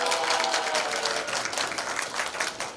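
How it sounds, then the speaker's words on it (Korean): Applause from an audience at a volunteer group's awards ceremony as a recipient walks up to the stage to accept a commendation; steady, dense clapping fills the room throughout. "나오실 때 박수"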